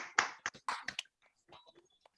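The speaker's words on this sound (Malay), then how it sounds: "Okey, tepukkan tangan dulu. Tepuk tangan." A handful of scattered hand claps from participants in an online class, heard as sharp, thin bursts through a call connection, followed by faint, quiet room noise.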